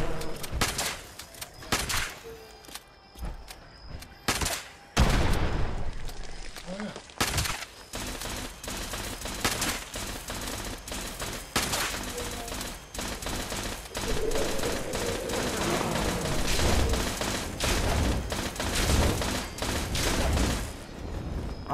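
Rapid bursts of gunfire from shooting an enemy in the game Fallout 76, with sharp repeated shots and volleys over several seconds and clicks and effects in between.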